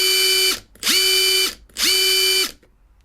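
Makita 18V power tool driven by a 14.4V battery, whirring up to speed three times in bursts of roughly a second each, close and loud with a steady motor whine and brief gaps of near silence between runs.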